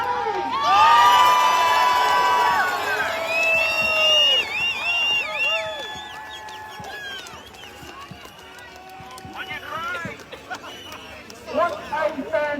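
A large outdoor crowd at a protest rally in Melbourne cheers and whoops, with high shrill shouts and whistles up front and ongoing chatter mixed in, loud at first before settling to a busy murmur with fresh bursts near the end.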